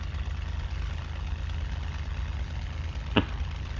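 A Hawker Hurricane piston engine idles as it warms up in a flight game, a steady low rumble running throughout with one brief sharp click near the end.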